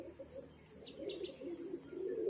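Pigeons cooing, with a few soft low coos and some light chirps over a quiet background, moderately close, no one talking.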